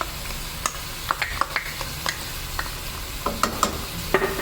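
Onions and turmeric fry in a pan for chicken karahi, a continuous sizzle broken by irregular clinks and scrapes of a utensil stirring.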